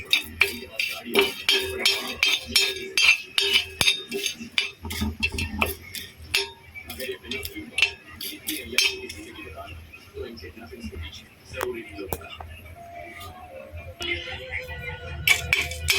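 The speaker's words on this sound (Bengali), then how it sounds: "এবার শুকনো খোলায় আমি গোটা মশলা ভেজে নেব" Whole spices including bay leaf, dried chilli, cinnamon, cumin, cardamom and cloves dry-roasted in a pan, with repeated sharp metal clinks and scraping of a utensil, close, alongside intermittent talking.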